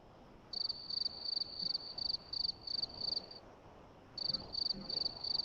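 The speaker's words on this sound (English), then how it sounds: "I hear crickets." Crickets chirping in steady rhythmic bursts of high, bright trills, a run of regular pulses that pauses briefly and then resumes, fairly close over a quiet background during a comedy sketch about a flat Earth.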